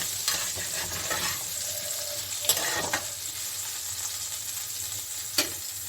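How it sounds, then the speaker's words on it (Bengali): Potatoes fry lightly in oil in a pan, a steady close sizzle punctuated by a few sharp clinks and stirring scrapes. "এখন এই তেলে আমি হালকা একটু ভেজে নিচ্ছি"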